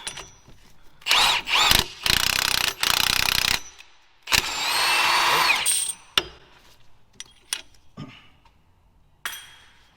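An old subframe bolt is run through threaded holes with a power tool to clean the threads, heard as several loud whirring bursts separated by pauses, with metallic clinks in between.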